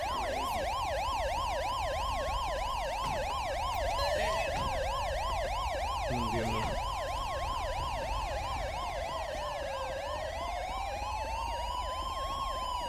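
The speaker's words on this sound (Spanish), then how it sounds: "¿Pero cuál es la ambulancia sirena?" Ambulance siren in the GTA V LSPDFR police mod, a loud continuous wail that shifts from rapid yelp cycles to a slower sweeping tone, mixed with a second siren and a steady engine hum.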